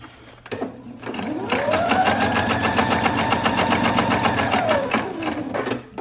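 A sewing machine stitches around a fabric book cover in one steady run of about four seconds, its motor whirring up to speed and slowing again at the end, close and clear.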